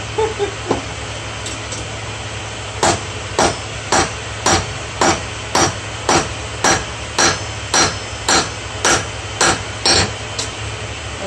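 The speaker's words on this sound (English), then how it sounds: "I'll get majority of the bevel in here with the hammer" A hammer strikes hot steel as the bevel of a seax blade is forged, about fifteen sharp, evenly spaced blows ringing close by over a steady background hum.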